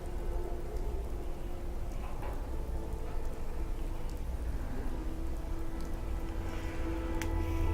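Steady, even rainfall in Fallout 4 patters continuously with a low background rumble and a few faint distant knocks, no talking.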